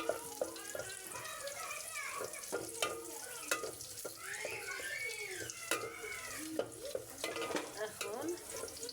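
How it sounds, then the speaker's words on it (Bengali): Garlic sizzles in hot oil in a home cooking pot while a utensil stirs and scrapes, soft crackle under irregular clinks and taps, close and fairly quiet with faint talk. "রসুনটা ভাজা হয়ে গেছে"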